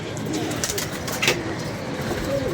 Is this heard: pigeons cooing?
yes